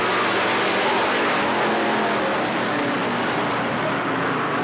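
Race cars roaring around the Cottage Grove Speedway oval during a 1991 three-lap finish, a dense, continuous engine din that stays loud and steady throughout without a break.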